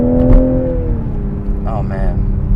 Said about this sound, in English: The paddle shifter, as you can see, is downshifting.